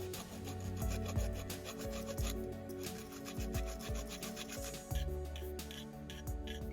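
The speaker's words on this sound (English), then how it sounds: "There's just a little bit of flashing on the shaft, so I'm going to take a small file and get rid of that." Small file rasping flashing off the shaft of a cast bronze feather, continuous close scraping strokes in a quick back-and-forth rhythm, fairly loud and alone without talk.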